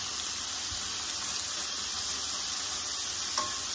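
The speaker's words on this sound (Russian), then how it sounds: "вот сюда я сейчас еще сливочное масло добавлю." Butter sizzles in a frying pan with garlic shrimp on a gas stove, a dense, continuous crackling hiss with occasional stirring scrapes and no talking.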